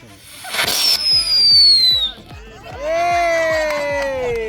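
Loud Diwali firecrackers and fireworks from Sivakasi crackling in a rapid, steady burst, with whistling and rising tones over the top and a crowd making noise.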